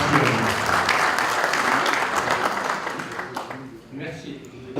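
Audience at a committee general assembly in a French village hall applauding the host club, sustained dense clapping that thins out toward the end as voices come through.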